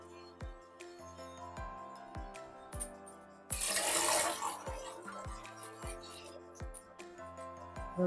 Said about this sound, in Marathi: बघा त्यावर पाणी घालायचं.